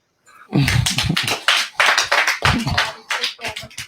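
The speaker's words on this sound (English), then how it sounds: "Clap for Team Doi." People clapping for a team in an indoor gathering, a burst of sharp, close hand claps starting suddenly and continuing irregularly for a few seconds.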